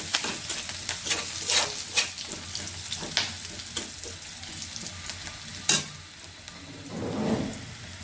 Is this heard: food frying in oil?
yes